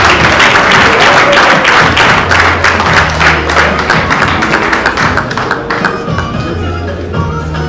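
An audience at a certificate ceremony in a Rotana hotel hall in the DR Congo claps loudly and steadily for several seconds, the applause thinning toward the end under a low hum of background music.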